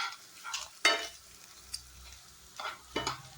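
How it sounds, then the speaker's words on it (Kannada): Paneer cubes seasoned with salt and chaat masala fry lightly in a pan for paneer butter masala, with soft sizzling and several short, close-up bursts of spatula stirring separated by brief quiet gaps. "ಇನ್ನು ಪುನಃ ಫ್ರೈ ಮಾಡಬೇಕು ಫ್ರೆಂಡ್ ಲೈಟಾಗಿ"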